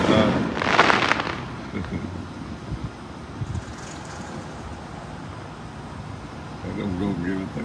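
Independence Day fireworks boom in the distance with a dull thud early on, followed by fainter muffled rumbles under wind noise while people talk nearby.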